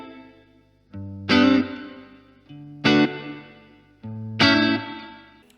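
Guitar chords through a Blackstar HT1-R amp with its digital reverb turned up, three strummed chords each ringing out into a smooth, predictable reverb tail, played alone.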